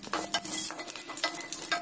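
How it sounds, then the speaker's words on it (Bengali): Curry leaves frying in hot oil left over from frying chicken, with a brisk crackling sizzle and quick stirring scrapes, close and short with no voices. "ওই তেলেই আমি কারি পাতা ভেজে নিচ্ছি।"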